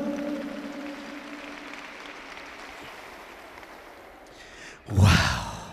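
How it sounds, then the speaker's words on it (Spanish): Church congregation in Pampa Amarilla, Huancavelica bursts into a short, loud round of clapping near the end, after a stretch of quiet room tone and faint murmuring. "Dale palmas a Jesús."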